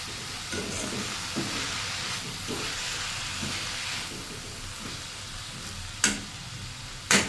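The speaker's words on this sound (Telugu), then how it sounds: "ఒకసారి మంచిగా కలుపుకోవాలి." Ponnaganti greens sizzle in a hot pan while being stirred, making a dense continuous hiss with soft periodic scraping strokes. Two sharp clatters come near the end, and nobody speaks.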